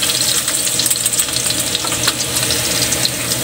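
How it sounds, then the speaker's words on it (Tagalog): Garlic for Filipino squid adobo sautés in a pan, a loud, dense, continuous sizzle with crackling bursts throughout, nothing else over it. "Gigisa na natin yung mga sangkap ng pusit natin"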